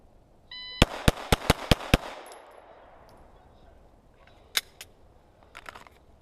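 Rapid string of six sharp gunshots fired in a tac sequence, close and loud, followed by a few scattered sharper impacts or shots later, with no talk.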